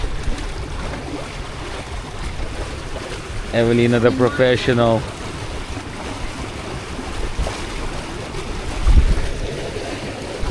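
Water noise and a low engine drone of a fishing boat run throughout, with a brief burst of voices partway through and a louder splash near the end.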